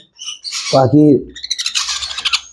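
Pineapple conure parrots give harsh, loud squawks close by, one rising call followed by a burst of scratchy chatter, with faint movement sounds between.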